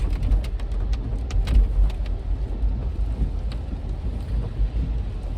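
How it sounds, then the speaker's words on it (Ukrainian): A dense, steady roar of heavy rain with a low rumbling undertone, heard from inside a car, with scattered sharper patters. "такий сильний дощ."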